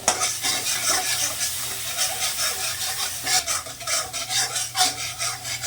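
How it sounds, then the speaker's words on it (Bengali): Ground spice masala with a pinch of Kashmiri chili powder sizzles steadily in a pan while a utensil stirs and scrapes through it, producing continuous close frying hiss with rhythmic rasping strokes. "মশলাটা কষানো হয়ে গেছে"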